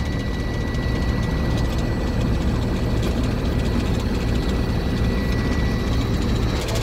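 A truck engine idles steadily in neutral to build air brake pressure past 100 PSI, a constant low rumble with no break throughout and no talking.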